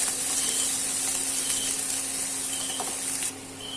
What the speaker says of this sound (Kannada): ಈಗ ಈರುಳ್ಳಿ, ಕರಿಬೇವಿನ ಸೊಪ್ಪು, ಮೆಣಸಿನ್ಕಾಯಿ ಹಾಕೋತಿದ್ದೀನಿ